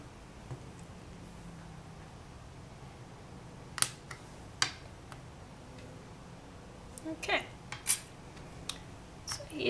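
A sharp clay blade trims the ends off a polymer clay leaf cane, giving a few crisp, isolated clicks and taps against a quiet background, with a small cluster of them near the end.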